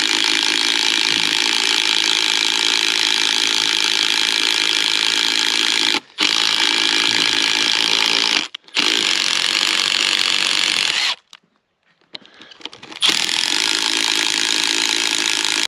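Milwaukee first-generation 12 volt impact driver driving a screw into a gate hinge, a loud continuous rattling hammer-whir in long bursts with brief pauses between runs and a longer gap near the end.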